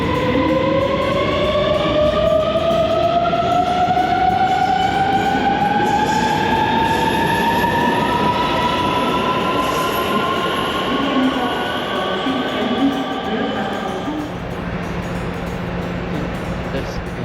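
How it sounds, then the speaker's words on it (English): A train pulls into a station on the Copenhagen Airport to Malmö line, its wheels squealing in rising and falling tones over a steady rumble of carriages, loud and close, slowly easing down toward a stop. "This is our train."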